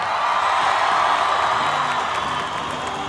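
Children applaud and cheer in a lively crowd during a Colombian concert, a dense, steady wash of clapping and shouts that stays loud throughout.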